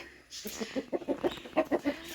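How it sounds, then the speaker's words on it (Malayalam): Backyard chickens cluck noisily near their coop, a rapid run of close, repeated clucks rising in a steady rhythm after a quiet start. "ഈ കോഴിക്കൂട്ടന്മാരാണ് ഈ ബഹളം വെക്കുന്നത്"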